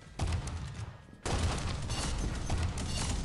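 Burst fire from the Clockwork Cannon in Pixel Gun 3D, a dense, steady stream of shots that pauses briefly and then resumes louder and continues, with faint voices in the background.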